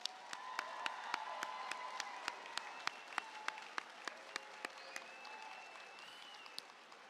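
A graduation ceremony audience gives a round of applause in an auditorium, dense steady clapping from many hands with a few sharper individual claps standing out, moderately distant and continuous.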